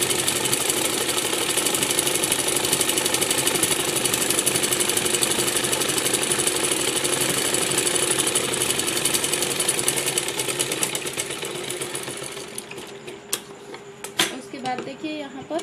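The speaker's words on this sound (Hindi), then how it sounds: "इसके नीचे की तरफ भी सिलाई लगा लेंगे।" A sewing machine stitching the hem of a salwar runs as a fast, continuous mechanical chatter for about twelve seconds, then stops, leaving a few scattered clicks and handling noises.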